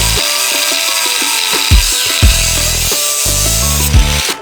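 An angle grinder cuts through a Honda Civic exhaust pipe with a loud, close, shrill whine. Its pitch repeatedly drops and recovers as the blade bites, with a few sharper bursts along the way.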